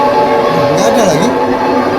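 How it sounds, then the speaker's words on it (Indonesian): Train passing in a film, a loud sustained rumble with clattering rail noise and a tonal squeal that rises and falls, filling the whole moment. "Kereta."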